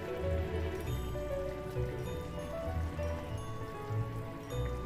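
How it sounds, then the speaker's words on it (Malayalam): Fish curry boils steadily in a pan, giving a continuous dense bubbling and sputtering hiss with a soft, even texture and no talk over it. "അപ്പോൾ ഇതാ നമ്മുടെ കറി നന്നായി തിളച്ച് വന്നിട്ടുണ്ട്"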